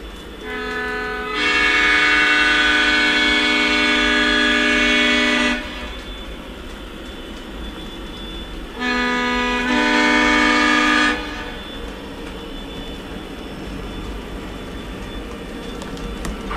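Lionel Legacy model train on a home layout sounding its chord horn in two long blasts, the first about four seconds and the second shorter, loud over a steady background of running rumble and motor hum.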